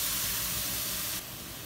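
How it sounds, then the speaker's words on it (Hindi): Boiled grated carrots for gajar halwa frying in a pan give off a steady, close, broadband sizzle and hiss that drops a little in level partway through. No one talks. "अब हम इसे थोड़ा सा फ्राई कर लेते हैं"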